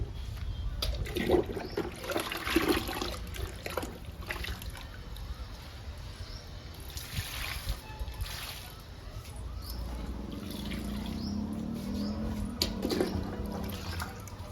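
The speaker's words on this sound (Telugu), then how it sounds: "ఈ గుబురుగా ఉన్న వాటన్నిటికీ మధ్యలోనే ఇవ్వాలండి లిక్విడ్" Liquid fertilizer is poured onto indoor plants, including a tulsi plant, giving a soft, continuous trickle and splash of liquid onto soil, fairly quiet and close, with faint handling noises.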